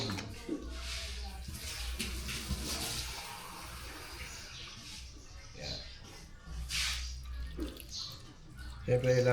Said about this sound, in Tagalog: Lalagyan natin syempre ng konting tubig yan.